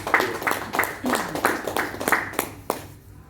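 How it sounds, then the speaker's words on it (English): Brief applause from a Rotary Club audience for a woman who donated her kidney to her son, a short run of fairly regular claps that fades out within a few seconds. "Can we give a big round of applause to this lady?"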